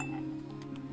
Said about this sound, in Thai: มีแก้วเติมน้ำแข็ง2-3ก้อนว่ากันไปนะคะ แล้วแต่ตามขนาดของแก้วค่ะ